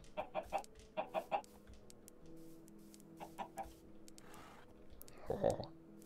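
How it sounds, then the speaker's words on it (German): Chickens cluck in Minecraft, their short clucks coming in quick groups of three at the start and again later, moderately close, with a voice speaking softly underneath. "Überall sind Hühner."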